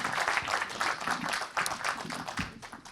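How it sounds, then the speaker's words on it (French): An audience at the AGrAF 2023 awards applauds, with dense, continuous clapping from many hands at a steady level for a few seconds. "On peut les applaudir."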